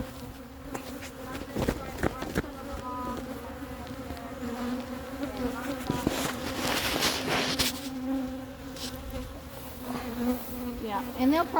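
Honey bees buzz loudly and steadily around an opened hive during an inspection, a dense close swarm hum rising as the colony grows agitated, with brief handling knocks early on.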